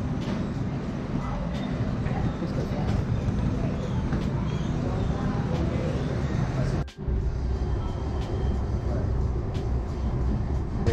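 A steady rumble of a light rail train riding from SeaTac Airport toward downtown Seattle fills the space, with rattling and faint voices underneath and a brief dip partway through.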